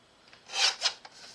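A printed postcard trimmed with a cutter or blade, two short close rasping strokes followed by a faint tick, in an otherwise quiet room.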